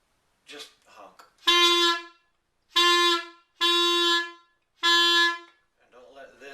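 A clarinet honks on purpose. Short, breathy sputters lead into four loud, sustained, buzzing reed tones of about a second each, separated by brief pauses, and it ends with a weaker, ragged note.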